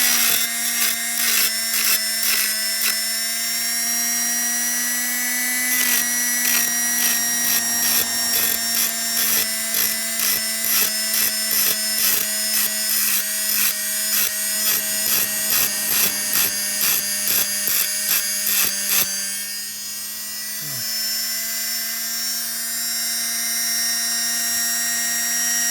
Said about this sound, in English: cutting tool on the end of my Dremel. Just gently.